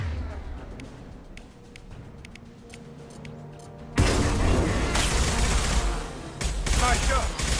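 Gunfire in the Mass Effect 2 video game: quiet scattered shots at first, then a sudden loud sustained burst of rapid firing and booms that fills the rest, with some voices underneath.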